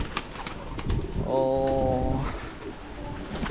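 A pigeon gives a soft, near coo in a bird loft. The single drawn-out call swells in the middle over faint background noise, and a voice speaks briefly at the start.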